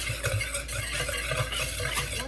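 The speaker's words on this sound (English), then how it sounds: "Whisk that all together." Dry ingredients of baking powder, kosher salt and baking soda whisked together in a bowl, a steady close scraping and tapping rhythm with no voices.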